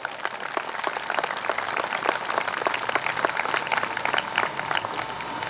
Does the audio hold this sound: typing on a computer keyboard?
no